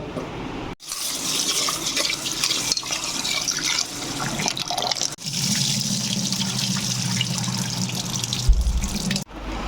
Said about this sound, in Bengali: ডালটা ঢেলে আমি একটু ধুয়ে নেব